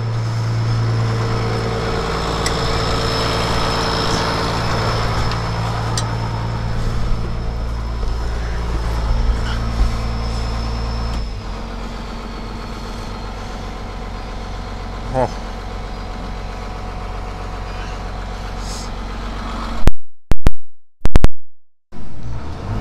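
A farm machine engine idles steadily with a low, even hum for about twenty seconds, then is revved hard in a few loud, surging bursts near the end.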